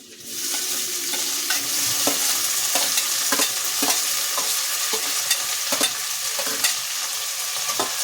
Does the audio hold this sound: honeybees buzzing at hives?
no